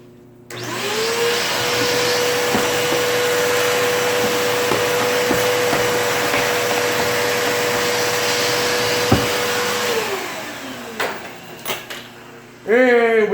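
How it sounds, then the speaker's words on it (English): A household vacuum cleaner sucks debris out of a kitchen cabinet drawer, running as a loud steady whine for about ten seconds, then winding down, with a few knocks and a short voice at the end. "use the home vacuum"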